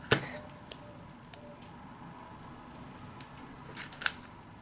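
Scissors snip excess ribbon from a lace dress, giving a few quiet, sharp clicks spaced irregularly over a soft, hushed background, close to the listener.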